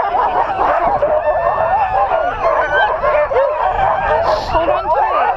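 A pack of sled dogs at a mushing camp in Skagway, Alaska barks, yips and howls continuously in a loud, excited overlapping chorus, close to the listener with no pauses.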